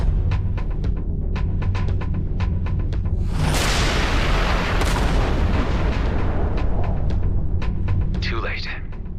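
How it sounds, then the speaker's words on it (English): Artillery fire in the space combat game Everspace 2: a loud sustained burst of explosive booming erupts midway over pulsing music and rhythmic game sounds, then fades. "Watch out. The artillery."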